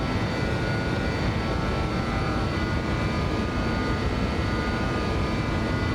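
Continuous jet engine roar from a BAe146 four-engine regional jet during takeoff in a flight simulator, a steady dense rumble with no talk over it.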